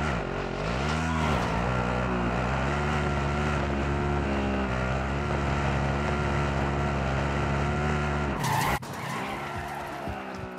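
A vehicle driven in the video game Warzone, a loud steady engine drone with tires skidding and the pitch shifting as it moves, then an abrupt harsh crash-like burst near the end before the engine continues more quietly.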